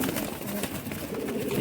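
Pigeons, breeding birds kept in a loft, coo steadily and close by, their soft rolling calls overlapping without pause through the whole stretch.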